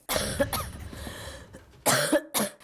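Several harsh coughs come in two bursts, close and fairly loud, with a brief pause between them and nothing else around.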